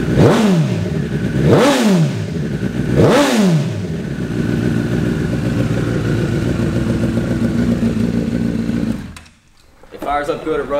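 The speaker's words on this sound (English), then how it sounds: "Watch how fast this bike revs up." A motorcycle engine revs hard three times in quick succession, then settles into a steady, loud idle before cutting out briefly.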